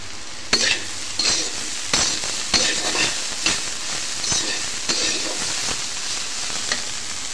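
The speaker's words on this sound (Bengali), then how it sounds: "কুমড়া দিয়ে ভাজি করে নিচ্ছি, আর কালো জিরে ফোড়ন দিয়েছিলাম।" Pumpkin bhaji fries in a pan tempered with black cumin, giving a steady close sizzle broken by regular spatula scrapes and light metal clinks about once a second.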